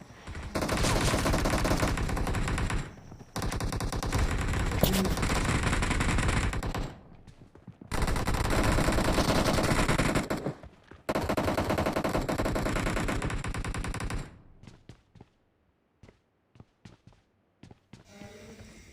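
Video game gunfire rattles in long, loud sustained bursts of automatic fire broken by short pauses, ending in a few scattered single shots.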